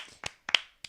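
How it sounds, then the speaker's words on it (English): Three sharp hand claps in quick succession, close and crisp, with a short gap between each and nothing else around them. "Let's clap that negative energy out real quick."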